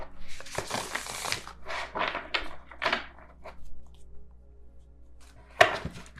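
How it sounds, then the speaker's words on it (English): Light Seers Tarot cards are shuffled by hand in short, soft riffling bursts with brief pauses between them, ending in a sharper snap, all quiet and close. "I'm going to try to shuffle the Light Seers Tarot."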